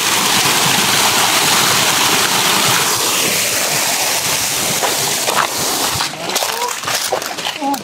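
A strong, swollen stream in a forest rushes loudly and continuously, a dense close roar of water that eases slightly near the end as voices and footsteps come through.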